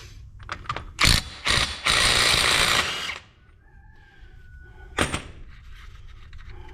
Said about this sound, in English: remove this with a 36 millimeter socket